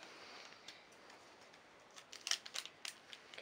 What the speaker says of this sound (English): we've just gone and got some scissors because Michael's finding it a bit harder to